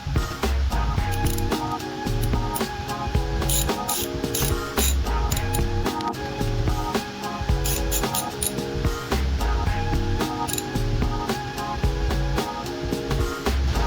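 A ratchet socket wrench with a 16mm socket clicks rapidly while turning a nut on a Puch moped engine, repeated bursts of close, loud ratcheting in a steady rhythm throughout.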